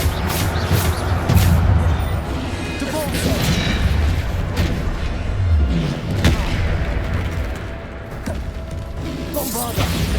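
Bombarda spell blasts from the Hogwarts Legacy video game thump out as repeated heavy booms amid continuous crashing and combat noise, loud and busy throughout.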